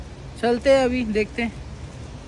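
Heavy rain falls steadily at a bus stop, a soft continuous hiss in the background while someone speaks briefly over it.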